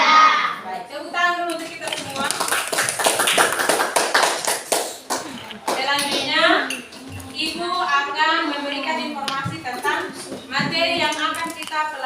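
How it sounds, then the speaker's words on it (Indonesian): Children in an elementary classroom clap together in a burst of rhythmic hand-tapping while a teacher's voice and kids' chatter run underneath, followed by continued speech. "tepuk tangan dulu untuk kita semua"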